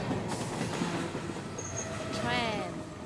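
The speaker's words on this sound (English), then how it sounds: "Train." A train passes with a steady rolling rumble, wheel squeal and a short high whistle-like tone near the middle, moderately loud and continuous, with no one talking over it.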